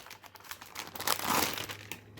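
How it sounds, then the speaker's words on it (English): Plastic packaging crinkling as a Logitech G Pro Tenkeyless keyboard is pulled out: quiet, close rustles and crackles that swell into a denser crinkle midway, then trail off. "Go ahead and pull this out of the packaging"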